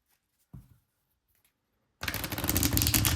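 An oracle card deck is given an overhand shuffle, a faint brief riffle of cards near the start followed by a loud, dense stretch of close card handling.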